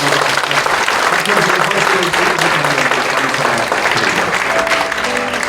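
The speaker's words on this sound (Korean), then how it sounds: "감사의 박수, 축하의 박수 한번" A church congregation claps in thanks and celebration during an ordination service, loud and continuous, with voices speaking and faint tones mixed underneath.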